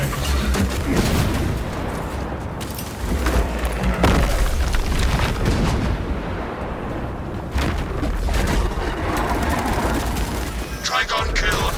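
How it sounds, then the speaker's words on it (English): A grenade blast in the Space Marine 2 video game, booming and loud within a dense, continuous wash of gunfire and battle noise that fills the whole stretch. "War gear acquired. Throwing front grenade."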